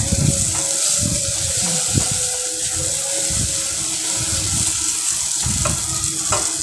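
Ginger garlic paste fries in a pan for a prawn and bottle gourd curry, crackling and sizzling steadily while a spoon stirs and scrapes in irregular strokes close by.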